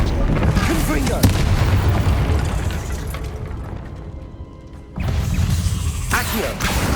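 A Confringo explosive spell blast in Hogwarts Legacy, a loud burst of booming, crashing impacts with a sharp crack early on, then a quieter lull before another heavy surge of blasts.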